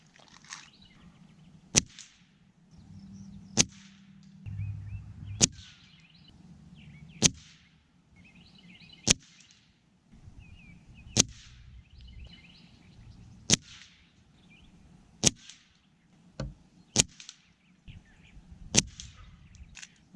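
A Gamo Urban PCP air rifle fires Crosman domed Ultra Magnum pellets in a string of about eleven sharp, isolated cracks spaced a second or two apart, with quiet handling noises and faint outdoor birdsong between shots.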